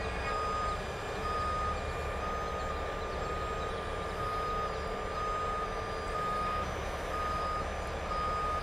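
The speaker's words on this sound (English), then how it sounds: "swing the truck and walk it over." A rotator tow truck sounds its reversing alarm, a steady series of high electronic beeps over a low engine drone, heard at a moderate distance with no talk.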